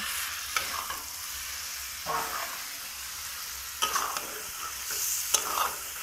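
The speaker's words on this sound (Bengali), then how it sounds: "এবারে এই কষিয়ে নেওয়া মশলার মধ্যে চিংড়িগুলো দিয়ে দেব।" Prawns frying in cooked-down spiced masala while a spatula stirs, a steady close sizzle broken by several scraping stirring strokes.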